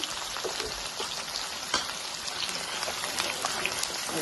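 Onions and green chillies frying in a pan with lentils, a steady close hiss of oil with scattered small pops and crackles throughout.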